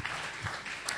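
A church congregation applauds during a French-language sermon, a dense steady wash of clapping over about a second with no pauses.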